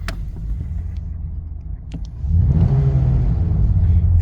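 A 1988 Ford LTD Country Squire station wagon engine rumbling at low idle, then swelling louder into a deeper, fuller drone as it accelerates, heard from inside or close by with no talking.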